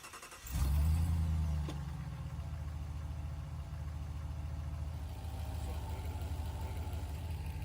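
A car engine cranks and catches with a loud rising roar, then settles into a steady, even idle rumble that continues close by without anyone speaking.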